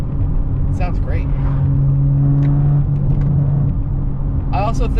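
A Toyota A90 Supra engine with an aftermarket intake revs up with a rising whine and deep rumble, fairly close, while a person talks over it in short bursts.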